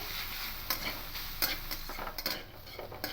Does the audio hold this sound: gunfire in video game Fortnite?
no